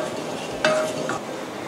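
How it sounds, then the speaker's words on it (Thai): A spoon stirs sugar syrup for a Thai flower-scented dessert, soft scraping and swishing in a pot with a brief clink of the utensil against the rim. "เดี๋ยวเราจะคนนะคะให้น้ำตาลทรายละลายนะคะ"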